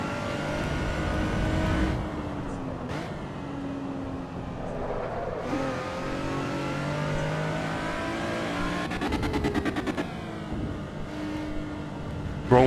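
Race car engine in Assetto Corsa Evo revving and shifting through gears, a steady loud drone with rising and falling pitch and brief bursts of rapid clatter, continuous throughout with no talk.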